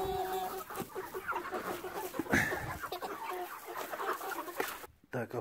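Chickens cluck steadily and close by during an evening round of a farm where a breeding rooster is kept. The busy, overlapping calls carry on for about five seconds, then cut off abruptly.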